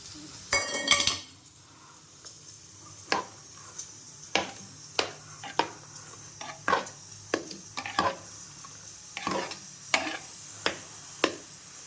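Pongal mixture with dissolved jaggery stirred in a pot: a brief loud clatter at the start, then steady, evenly spaced scrapes and taps of the spoon against the metal over a faint simmer, close by with no speech.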